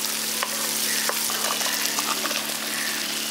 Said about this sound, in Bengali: পটলগুলো দিয়ে এবার মশলাটার সঙ্গে একটু ভাজা ভাজা করে নিচ্ছি।